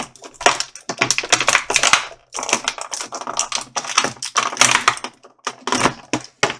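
An action figure is popped out of plastic packaging, giving dense bursts of crinkling, crackling plastic and small clicks that come close and loud in rapid clusters with brief pauses.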